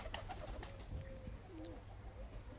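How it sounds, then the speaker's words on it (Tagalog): Pigeon cooing softly at a farm, a few faint low calls over quiet outdoor background. "So ito na nga guys yung order kay Jowa na kalapati"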